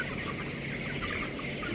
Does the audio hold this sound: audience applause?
no